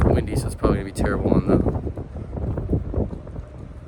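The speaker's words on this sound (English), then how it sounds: "It's windy, so it's probably gonna be terrible" Wind buffeting a microphone outdoors, gusty low rumbles and bursts running beneath a person who is talking throughout.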